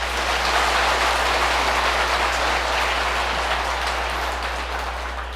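An audience at a Buddhist dharma lecture claps in a dense, sustained burst of hand clapping, steady and fairly even, over a low electrical hum.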